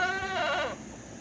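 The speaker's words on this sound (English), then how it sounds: "There's the goats down there." Goats on a rural property bleat in one drawn-out, wavering call that fades off, heard on its own with no talking.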